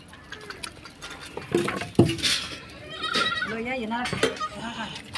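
Sick goats being fed on a farm bleat a few times in short cries amid clattering and rustling, with someone talking nearby.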